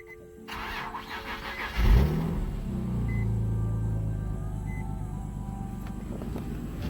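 A car engine cranks and catches, then settles into a steady low idle rumble, close by and alone with no voices.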